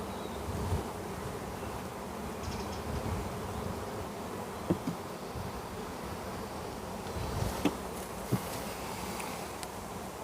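Steady insect buzzing fills the air, a continuous hum of many honey bees nearby at a hive with a few brief knocks and rustles, no voices.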